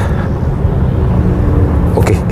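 Nissan Serena HWS Autech with CVT transmission, engine and road noise while driving, a steady low drone heard from inside the cabin, loud and continuous.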